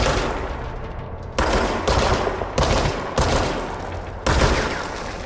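Gunfire from the video game Control, played on PC: a series of five or six sharp, loud shots, each followed by a decaying crackle, spaced about half a second to a second apart, with no voice over them.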